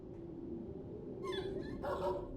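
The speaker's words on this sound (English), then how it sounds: "now that definitely sounded like a dog" A dog in the video game Space Engineers gives two short bursts of barking and whining, somewhat distant, over a constant low ambient hum.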